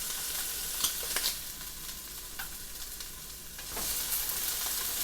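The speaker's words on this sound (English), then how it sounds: "I'm going to kind of toss my hash browns, which are, as you see, are browning up very nicely there." Hash browns fry in a non-stick skillet with a steady, close sizzle. A few spatula scrapes and taps break through as they are tossed, and no one speaks.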